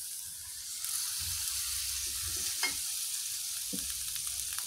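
An egg frying in a pan for pesmol telur ceplok, with a steady broad sizzle throughout and a few soft stirring knocks; no talking.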